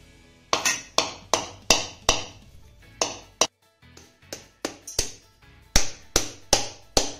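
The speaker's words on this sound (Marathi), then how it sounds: "आता हा नारळ फोडून यामधलं आपल्याला खोबरं काढून घ्यायचं आहे" A whole coconut struck repeatedly to crack it open, giving sharp, hard knocks in an irregular rhythm, some in quick pairs, close and fairly loud, with a brief pause midway before the blows resume.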